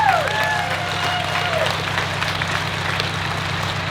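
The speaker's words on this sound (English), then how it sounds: "Let's give them a round of applause" Audience applause for the Galax Volunteer Fire Department at a scholarship awards event, a steady wash of clapping with faint crowd noise and a steady low hum underneath, lasting throughout.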